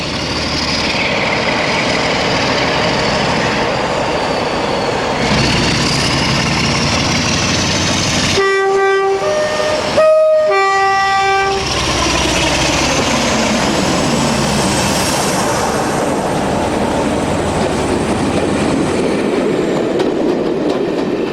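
A British diesel locomotive pulling out of Exeter with a passenger service in June 2001, its engine roaring loud and sustained throughout, with a brief horn-like tonal blast midway and rising engine tones.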